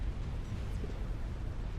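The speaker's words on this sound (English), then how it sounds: "The comm explosion killed off Surrey" A commander unit blows up in the real-time strategy game Supreme Commander: Forged Alliance, giving a heavy, rumbling explosion with a dense low roar that holds steady throughout and has no talk over it.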